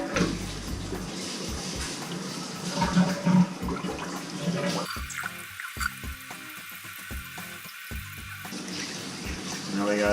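Kohler toilet tank refilling with water after a repair, a steady rushing and hissing flow with gurgles, close by, with people talking over it.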